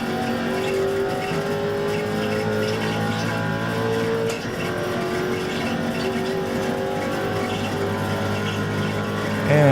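A GTC race car engine in an iRacing league sim race drones loud and steady at sustained revs, with a constant whine and no voices over it.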